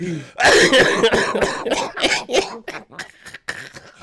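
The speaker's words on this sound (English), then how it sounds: "that made me cough" A man coughs in a run of harsh, loud bursts close up, first a dense cluster and then sparser, weaker hacks and throat clearing trailing off.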